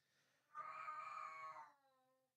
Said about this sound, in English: Oh no, the cat's here.